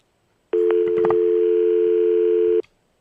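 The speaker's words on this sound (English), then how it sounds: "let's go ahead and pick up the phone" A telephone line picked up on a firefighter chefs' call-in radio show gives a steady, loud dial tone lasting about two seconds, with a few brief clicks from the handset near its start before it cuts off.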